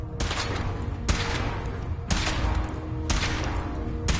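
Gunfire in modded Fallout 4, heavy booming shots landing about once a second in a steady, evenly spaced rhythm over a dense, continuous rumble of battle.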